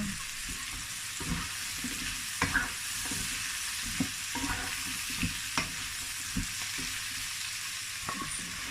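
Mixed vegetables, including broccoli, stir-fry in a pan with a steady close sizzle. Scraping stir strokes recur every second or so, and no one talks.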